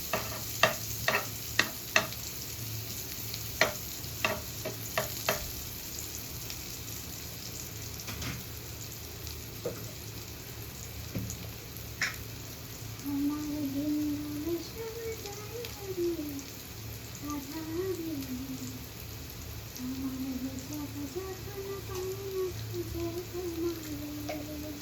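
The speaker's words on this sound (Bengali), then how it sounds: "পেঁয়াজগুলো আগে তেলে ভেজে নিচ্ছি" Onions fry in oil with a soft, steady sizzle. A few sharp clinks and scrapes come early, and a faint tonal hum drifts in later, all quiet and somewhat distant, with no talking.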